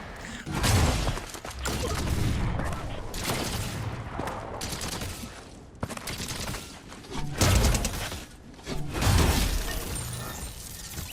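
Fortnite gunfire bursts in loud, sharp volleys with shattering impacts, several clusters of rapid shots separated by brief quieter gaps, mixed with game effects.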